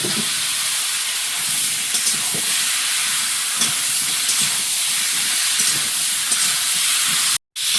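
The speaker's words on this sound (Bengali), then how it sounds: "আলুটাও ভালো করে কষিয়ে নিয়েছি মশলার সঙ্গে" Potatoes fry in a spice paste in a pan, giving a loud, continuous sizzling hiss close by with small pops throughout, cut by a brief dropout near the end.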